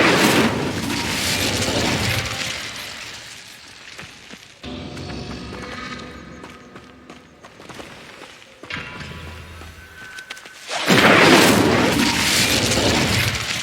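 An Incendio fire spell cast in Hogwarts Legacy, loud booming bursts of flame at the start and again near the end, with quieter mechanical rumble between, no voices.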